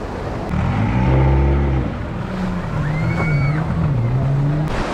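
An open boat heads out on the sea for parasailing at Malpe Beach, its motor droning steadily and close, with a rising whine partway through and no talk over it.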